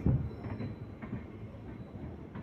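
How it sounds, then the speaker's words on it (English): The Intercity Puri Jodhpur Superfast Express rumbles along steadily, its wheels clacking rhythmically over the rail joints with a low continuous roar of carriages. No voices are heard. "intercity Puri Jodhpur superfast express"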